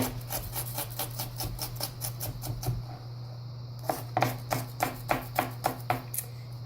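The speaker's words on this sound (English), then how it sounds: "get a chop on it" Vegetables for chili are chopped with a knife in rapid bursts of close, sharp board knocks, a fast run, a brief pause, then another steady series of strikes over a faint background hum, with no voices.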